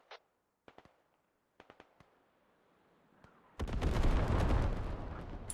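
A big artillery barrage in a strategy video game opens with scattered sharp cracks. It then swells into a loud, sustained roar of overlapping blasts.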